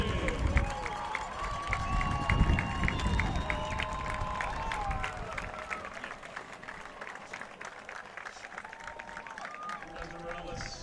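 A home crowd on its feet cheers and applauds before kickoff of a Fort Collins vs. Windsor Wizards high school football game, a steady roar under a commentator's play-by-play.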